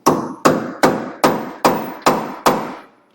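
A hammer drives a small chisel into a steering joint on a Chevy GMC 2500 Duramax truck, seven sharp metallic blows at a steady, even rhythm, loud and close with no talk.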